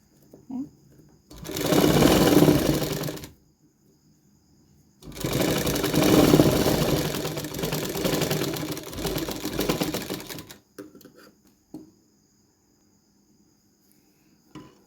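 A sewing machine runs in two long bursts, stitching a double stitch along a half-inch folded blouse hem, each run several seconds long and loud and close, with quiet pauses and faint handling between.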